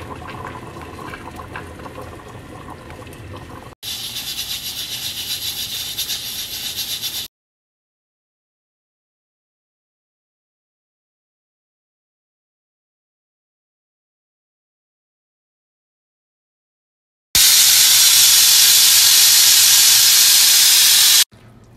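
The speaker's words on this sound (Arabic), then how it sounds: "الآن نضيف المويه ونكتمه لمدة 35 دقيقة" Water poured into a hot pot of lamb for kabsa, hissing and steaming loudly in two bursts separated by a long silent gap, with no talk.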